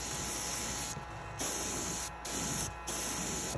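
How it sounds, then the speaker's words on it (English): An air gun sprays thick reduced paint onto a perch fishing lure in three close, loud hissing bursts separated by short pauses. "I use a 4012 or 4011 wicked reducer on this to actually be able to spray this even through an air gun"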